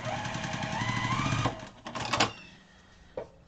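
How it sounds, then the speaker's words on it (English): Sewing machine stitching two fabric pieces together, a fast mechanical rattle of needle strokes for about a second and a half, then stopping, followed by a few clicks and knocks. "I'm just going to sew them together."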